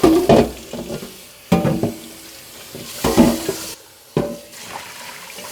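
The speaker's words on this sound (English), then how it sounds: "I'm going to rinse it out." Running water splashes while heavy cast iron and stainless cookware and Dutch ovens are rinsed out, in four separate sloshing bursts with short pauses between, close by.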